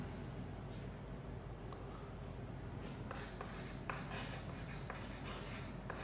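Chalk or marker scratches across a classroom board in short strokes and taps, faint against a quiet room, with scattered sharper marks toward the end.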